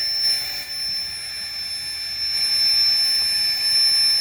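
An electric air pump inflating a Klymit Static V insulated air mattress gives a steady, close whine with a sustained high tone, holding even and slightly louder toward the end.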